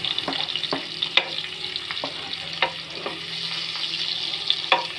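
Garlic sautéing in a pan of hot oil alongside onion, a steady close sizzle broken by repeated sharp scrapes and clicks of a spatula stirring, with no talking.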